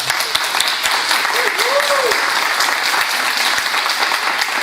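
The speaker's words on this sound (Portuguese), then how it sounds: "Eu acho que para eles merece uma salva de palmas" An audience at a local TV programme event in Araguaína, Tocantins applauds steadily, a dense, even patter of many hands that fills the whole stretch without letting up.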